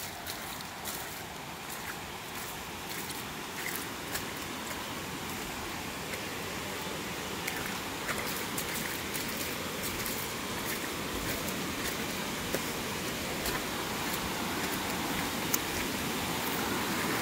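Usgaon waterfall pouring steadily outdoors, a continuous broadband rush of falling water that stays loud and even throughout with no pauses.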